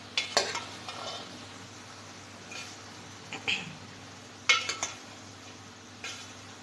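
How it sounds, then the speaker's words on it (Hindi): A spoon stirs okra (bhindi) masala in a pan in short, scraping bursts of metallic clatter, spaced by pauses over a faint background sizzle. "अब इसको मैं मिक्स करूँगी अच्छे से"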